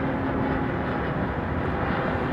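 Rolls-Royce Trent XWB engines on an airliner at London Heathrow growl steadily and loudly, a dense constant drone with a faint steady hum running through it, heard alone with no talk.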